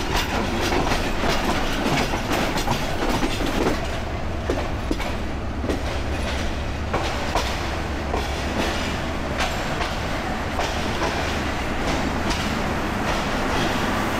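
The Sundarban Express passenger train runs on rails with continuous loud rumbling and rhythmic clickety-clack wheel beats, heard up close for the whole stretch.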